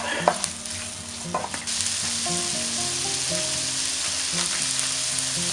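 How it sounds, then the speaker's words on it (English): Gnocchi with porcini mushrooms and Italian sausage meat stirred in a pan, with a steady close sizzle of frying and a few knocks and scrapes of the spoon near the start, with no talking. "Just stir it up."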